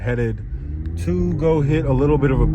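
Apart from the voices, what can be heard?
No everyday noise stands out behind the speech.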